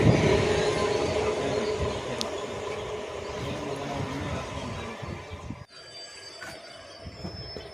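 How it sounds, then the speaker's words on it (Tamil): A passenger train pulling out near Sundara Perumal Koil station on the Tiruchirappalli–Vriddhachalam line on a foggy day rumbles loudly, then drops abruptly to a quieter rolling hum with thin high squealing tones from the wheels. "ஒரு நீண்ட ஒலிப்பானுடன் நமது வண்டி புறப்பட்டு விட்டது பாருங்க"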